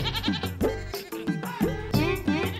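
A herd of goats bleats continuously, several wavering calls overlapping one after another, loud and close, with no talk over them.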